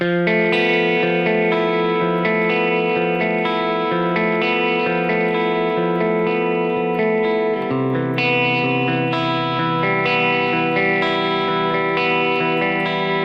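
An electric guitar with a distorted, effected tone is strummed steadily using only downstrokes, loud and sustained throughout with no talking.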